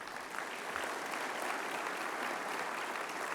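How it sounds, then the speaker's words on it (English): Sustained audience applause at a large engineering education conference plenary, a steady dense wash of clapping from a big crowd lasting several seconds with no talk over it. "How about giving them a round of applause?"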